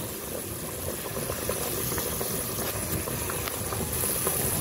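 Pot of pork nilaga at a full rolling boil, a steady, close bubbling rattle and hiss that holds level for several seconds with no talking.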